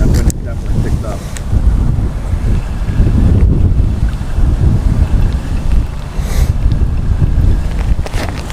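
Strong wind buffets the microphone and rushes across open water during bass fishing from a boat, a loud, steady low roar with gusty surges throughout.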